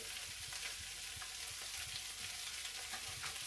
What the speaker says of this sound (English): we put another knob of butter in there